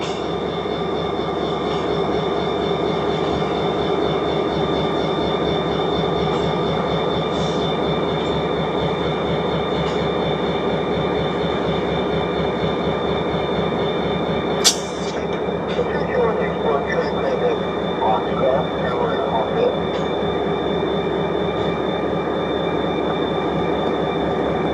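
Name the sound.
freight train passing, Conrail auto rack car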